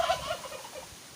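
A turkey gobbles in a rapid, rattling burst that quickly fades, moderately close and alone.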